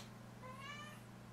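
One brief, faint meow from a pet cat, a thin bending cry heard over a constant low hum in an otherwise quiet room.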